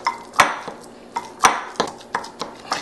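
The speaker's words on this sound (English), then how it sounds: "You want to take 1/2 avocado, and muddle it well." Half an avocado mashed in a bowl for a dipping sauce, a utensil tapping and scraping against the dish in a string of sharp, close clinks with short gaps, no voices.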